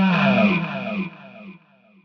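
Electric guitar run through a talkbox-style pedal sweep from a Fractal FM3/FM9/Axe-FX III preset, wet signal only, producing a vocal, wah-like distorted chord that swells and then fades over about two seconds.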